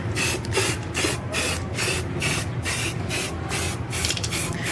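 A spray paint can hisses in quick, evenly spaced bursts while coating an old valve cover, close and loud, with a short pause between each pass.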